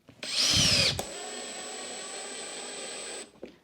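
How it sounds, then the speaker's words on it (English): Power screwdriver driving screws while assembling a Graham Audio LS5/9f loudspeaker: a brief loud burst of whirring, then a steady high motor whine for about two seconds before stopping. "And then we get the screwdriver."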